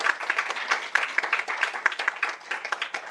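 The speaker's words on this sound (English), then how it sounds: "Big round of applause." An audience at a school board meeting applauds for an eighth-grade student, a steady patter of many hands clapping at moderate distance, continuous for the full stretch without talk over it.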